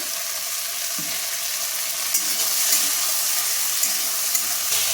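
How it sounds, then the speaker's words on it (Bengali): Potato and okra pieces fry in hot oil in a pan until browned, a steady, close, hissing sizzle with no talk over it. "এবার আমি আলু আর ঢ্যাঁড়সটাকে ভালো করে লাল করে ভেজে নেব।"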